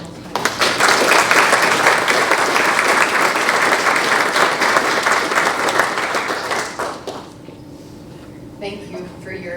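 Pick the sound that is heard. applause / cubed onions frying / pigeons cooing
applause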